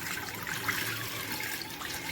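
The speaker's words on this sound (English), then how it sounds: "Get the last of the water in" Water pouring into a 16-liter portable mini washing machine, a steady close splashing stream that runs on throughout with no pause and no talking.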